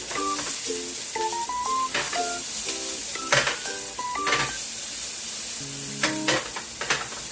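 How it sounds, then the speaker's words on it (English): Celery, onions, carrots and meatballs sweat in olive oil in a pan, giving a soft, steady sizzle. Short bright electronic beeping tones cut in over it in quick bursts. "the meatballs, again, celery, onions, and also our carrots. So we have to sweat it."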